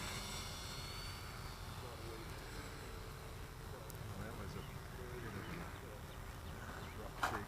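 A Flightline Spitfire model airplane takes off with a faint, steady engine drone that holds evenly throughout and sounds distant and thin under the outdoor background.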